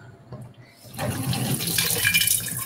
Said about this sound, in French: il suffit d'ouvrir le robinet